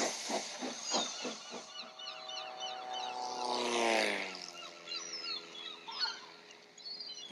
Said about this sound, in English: That plane's making a great deal of noise, said Percy to Oliver.